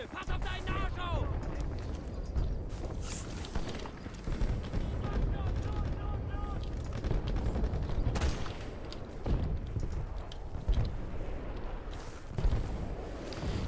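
Shotgun blasts and other gunfire in Battlefield Bad Company 2 Vietnam, heavy booming shots and a dense battle din that runs the whole time under someone speaking.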